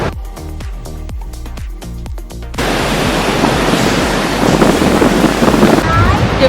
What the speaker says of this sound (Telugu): వెనకాలంతా ఫెరోషియస్ వాటర్ ఫాల్స్, ఫుల్గా చాలా లార్జ్గా ఫోర్స్ఫుల్గా ఉన్నాయి.